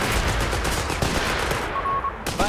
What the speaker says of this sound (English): Oddly, that MG is looking for easy targets!